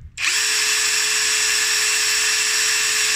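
A Nagawa NID213K impact driver spins up at its top speed after a short click and then holds a loud, steady, high-pitched whine for about three seconds.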